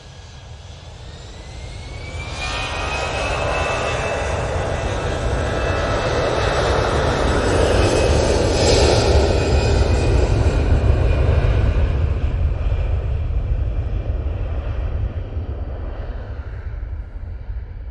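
A jetliner takes off from Manchester Airport toward Faro, engines climbing from a rising whine into a loud, full roar that peaks midway and slowly trails off into the distance, heard alone without talk.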